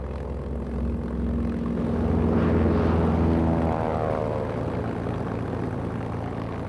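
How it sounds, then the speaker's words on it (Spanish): German warplanes of a bombing campaign against Britain: a propeller aircraft engine drones past, swelling to a peak and then receding, steady and moderately loud. "aviones alemanes iniciaron una intensa campaña de bombardeos contra la Gran Bretaña"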